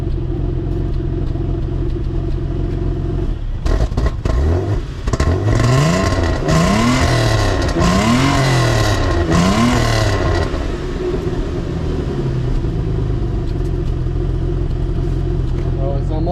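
A Ford BA XR6 six-cylinder with a custom exhaust idles loudly, then is blipped through several quick revs that rise and fall one after another before settling back to a steady rumbling idle, close to the microphone.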